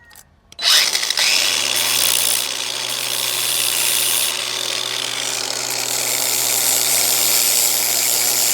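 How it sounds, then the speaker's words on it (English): An angle grinder takes paint off the metal of a wood chipper under repair. It starts after a short quiet moment and keeps up a loud, steady, high whine with a constant grinding rasp. "we'll just start grinding paint off"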